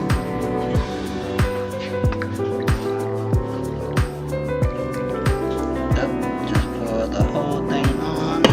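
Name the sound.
Vietnamese coffee dripping through phin filter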